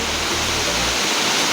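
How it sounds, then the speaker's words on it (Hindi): Siddhkhol waterfall pouring down from above, a loud, steady, broadband rush of falling water heard close up with no voices. "किस टाइप से ऊपर से पानी गिरा झरझे झरझे"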